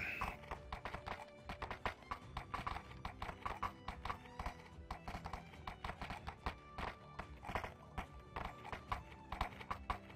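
Steady clip-clop of horse hooves on a hard surface, a brisk continuous rhythm of sharp knocks throughout, fairly close.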